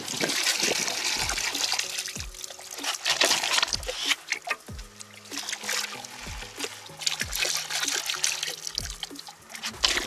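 Water sloshes and trickles in a gold pan as gravel and rough gold-bearing material from a mine are swirled during panning, with repeated close splashes, drips and small stone clicks in an uneven rhythm, no voices.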